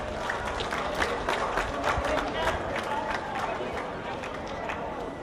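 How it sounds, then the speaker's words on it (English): Crowd at a rabbit show applauds youth winners, a soft, fairly distant patter of scattered clapping with murmured chatter, steady throughout. "give those kids a round of applause"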